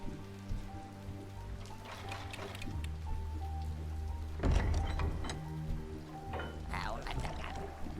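Rain falls in the video game Biomutant as a faint steady patter beneath game sounds and a few splashy bursts, with a voice talking at times.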